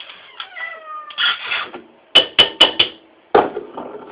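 A hungry cat meows several times near feeding time, followed by four sharp, bright clinks of cat bowls knocked together, then another close meow.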